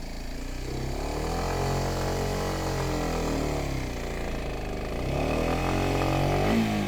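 Motorcycle engine held at high revs during a burnout against a curb, its pitch sweeping up and down in long arcs, loud and close with a continuous droning tone.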